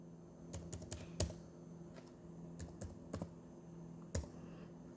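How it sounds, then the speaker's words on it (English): Fingers tap on a computer keyboard in short, irregular bursts of close, crisp keystrokes with brief pauses, with no talking over them. "If I just type in trap."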